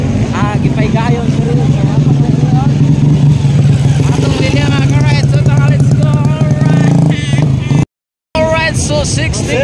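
65cc motocross motorcycles race in Carmen, Cagayan de Oro City, their loud, high-pitched engines whining and revving continuously under voices, with a brief dropout near the end.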